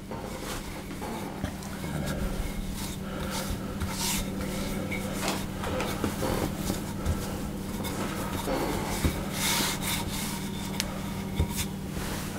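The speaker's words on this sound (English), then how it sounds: "I'm going to roll that out into a rectangle, which is about a third of an inch in thickness" Brioche dough for chocolate and crème pâtissière swirls being rolled out on a lightly floured surface into a rectangle about a third of an inch thick, giving a steady, close rubbing and rolling sound that carries on throughout.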